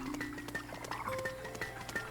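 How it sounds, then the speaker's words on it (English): Footsteps clatter across a bridge in the video game Pikmin 4, a quick run of light hollow clip-clop taps with faint chiming tones, quiet and without speech. "The sound effect when you walk on this bridge"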